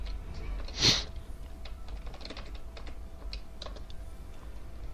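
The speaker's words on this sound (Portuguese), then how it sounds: "Teclado." Keys on a computer keyboard are pressed in scattered, light clicks, close and fairly quiet, with one louder thump near the start.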